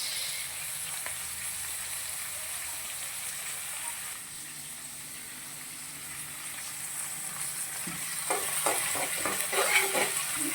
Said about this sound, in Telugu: పచ్చిమిర్చి అన్నీ వేసి కలుపుకోవాలి 2 నిమిషాలలో.